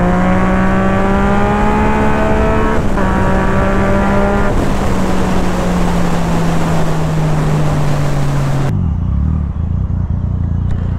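A loud superbike, either a Kawasaki Z1000 with an Austin Racing exhaust or a Triumph Street Triple RS, screams past with a strong engine note whose pitch slides downward. It cuts off abruptly near the end.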